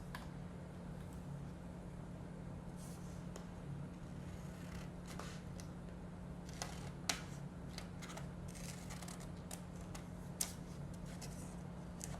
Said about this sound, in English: cut out the square along the lines and try to stay on the lines